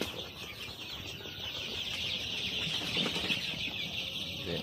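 A Bhama rooster clucks in a poultry setting against a steady hiss of background noise, with soft scattered fowl sounds and no clear single call standing out.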